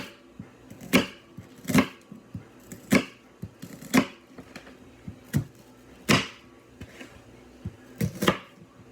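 Knife chopping onions on a cutting board at home, a steady series of sharp, close chops about one per second with small clicks between them, no talking.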